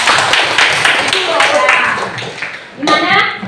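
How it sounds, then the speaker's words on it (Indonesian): A classroom group claps for group 4, giving a run of quick, evenly spaced hand claps under a teacher's talk, ending in a brighter final burst. "Kita kasih aplaus untuk kelompok 4."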